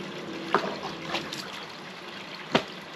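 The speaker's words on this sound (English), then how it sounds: "chucking water out the pond, making a blooming mess, spitting all the food out" Koi in a garden pond with a waterfall splashing at the surface, two sharp close splashes about two seconds apart over a soft background trickle of water.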